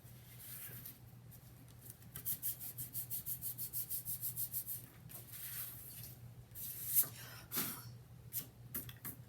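A ruler rubs briskly back and forth along the paper edges of a handmade mini album, a quick even series of scraping strokes followed by a few slower, irregular passes, close and fairly quiet.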